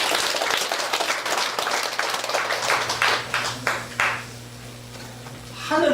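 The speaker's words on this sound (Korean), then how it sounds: "우리 이분들에게도 힘찬 박수 부탁드립니다" An audience at an academy entrance ceremony claps vigorously in a hall, dense applause that thins out and fades toward the end, with a low steady hum underneath and a voice starting at the close.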